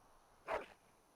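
A single short dog bark sounds in the fantasy role-playing video game Dragon Age Origins, one quick mid-loud yelp over a quiet background with no talk.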